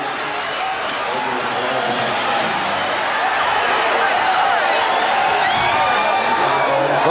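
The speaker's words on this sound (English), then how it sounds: "The Bulls greeted by a portion of this Forum crowd as they try to get back to their locker room." A large arena crowd at the Forum cheers and roars as the Chicago Bulls win the 1991 NBA championship against the Lakers, a loud, continuous swell of noise with a voice talking over it.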